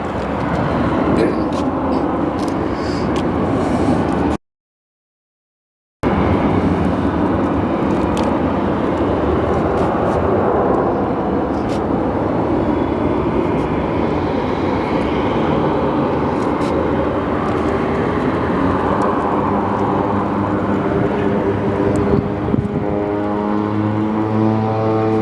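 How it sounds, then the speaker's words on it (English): A C-26 aircraft at Phoenix Sky Harbor Airport makes a loud, steady engine drone that continues for the whole stretch, broken only by a short gap of silence early on. "Hopefully we can get a good engine note on that C-26."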